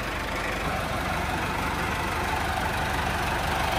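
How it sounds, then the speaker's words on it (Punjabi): A tractor engine idles nearby with a steady, constant low rumble and no talking. "ਪਹਿਲੇ ਸਵਾਰੀ ਕਰਨਗੇ ਟਰੈਕਟਰ ਦੀ, ਇੰਜੋਏ ਕਰਨ ਵਾਸਤੇ"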